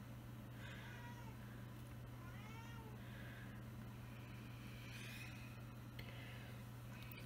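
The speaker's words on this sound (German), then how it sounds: "Wenn ihr eine Katze hört, das ist mein Kater." A tomcat that has just come in from outdoors yowls and meows several times at close range over a steady low indoor hum, with no talking.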